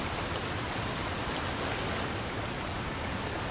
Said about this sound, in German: Wir merken uns der Wasserfall.